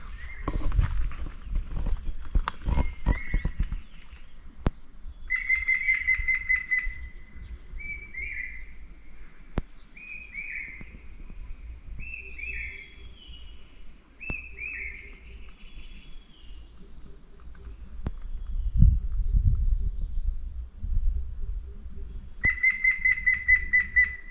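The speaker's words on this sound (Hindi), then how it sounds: "दोस्तों पक्षियों की आवाज़ बहुत ज़्यादा है यहाँ पर।" Birds singing in Munsiyari, a remote Himalayan village: repeated chirps and short whistled phrases, some near and some farther off, with scattered clicks and low background rumble and no talk.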